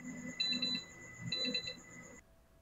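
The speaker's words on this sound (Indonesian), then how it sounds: "Kita aktifin fitur Find Device ini, nanti TWS-nya akan bunyi kayak gini." Electronic find-device alert from Soundcore R50i wireless earbuds: a steady high tone with repeated bursts of beeping chirps, in two clusters, stopping abruptly after about two seconds, alone and fairly near.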